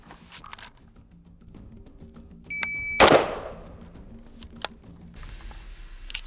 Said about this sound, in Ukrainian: чекаю сигнал таймера і стріляю